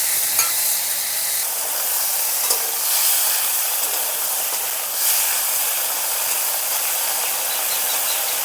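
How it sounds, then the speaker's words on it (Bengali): Golda chingri, large river prawns coated in salt and turmeric, stir-fry in a pan with a loud, dense hiss of hot oil that runs steadily throughout, and occasional soft stirring scrapes can be heard. "চিংড়ি মাছগুলো একটু নাড়াচাড়া করে ভাজা ভাজা করে নেব।"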